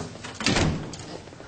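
A door closes with a muffled thud and a short sliding rumble at close range, with no talking over it.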